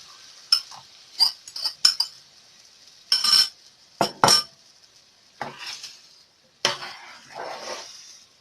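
Utensil scraping and clinking in a pan while egg and spinach are mixed together, a series of short, sharp clatters and taps in irregular bursts, close and moderately loud, with no talking.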